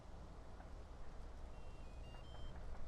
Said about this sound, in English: We got the beeps, we got the beeps.